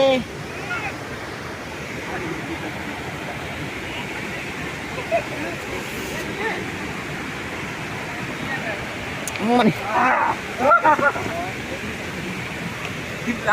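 Continuous roar of Polluru waterfall fills the scene, with people talking and shouting briefly near the end.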